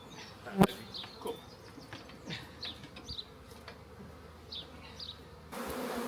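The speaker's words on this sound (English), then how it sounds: "So that is a big old box of bees." Honey bees buzz steadily around a large box of bees in a beekeeping apiary, a continuous insect drone with occasional louder passes close by and no talking.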